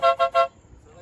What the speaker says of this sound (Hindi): तो आपको एक बार आवाज़ भी सुना देते हैं हॉर्न की, तो चेक कर सकते हैं आप लोग।